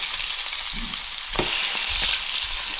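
Pieces of freshly caught seafood fry in a crowded pan of hot oil, a steady loud crackling sizzle with a few stirring bumps, close up and without voices.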